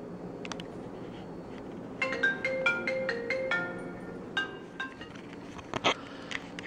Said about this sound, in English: That was an important phone call from Mishka's vet.